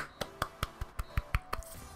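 Crowd applause in the FIFA 19 football game during a Cardiff City career mode match, heard as a short run of soft, evenly spaced claps.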